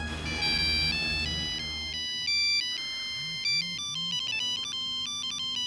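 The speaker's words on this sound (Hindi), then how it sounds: "नेहा भाभी का फोन है" A mobile phone plays a loud melodic ringtone in a Hindi TV serial scene, with a bright run of repeating electronic tones that shift pattern partway through, heard alone without talk.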